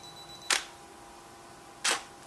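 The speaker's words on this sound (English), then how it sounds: "I would have to hand hold the camera steady for 3-5 seconds before that shutter went and actually took the photo" A camera shutter fires twice, spaced more than a second apart. Each release is a crisp, close mechanical click in an otherwise quiet room.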